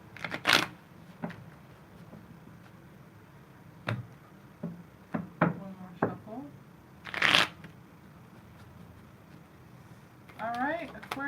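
Tarot cards being shuffled by hand in a few separate riffling bursts, each a short crisp flutter with quiet gaps between, close and fairly loud; a voice talks softly in the background.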